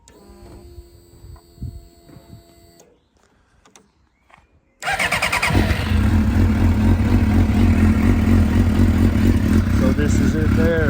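A track motorcycle engine catches after a quiet pause and then idles loudly and steadily, with a rough, pulsing drone close by; a voice is heard before it starts.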